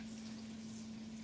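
Butter sizzling in a frying pan, a faint, steady crackling hiss over a low, constant hum.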